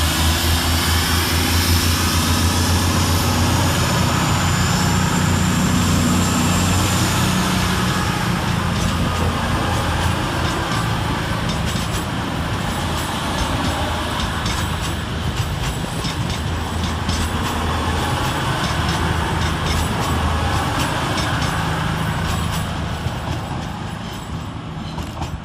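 Cross-country diesel units 220021 and 220014 pull out of Basingstoke station in snow with a loud, sustained engine roar and rail rumble that stays steady and close for the whole stretch.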